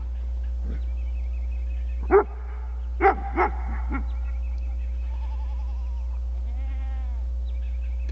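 A livestock guardian dog guarding a goat herd at a fence gives several barks at a distance, one bark and then a short cluster, over a steady low hum with quiet stretches between.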